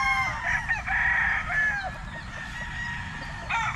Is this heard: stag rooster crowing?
yes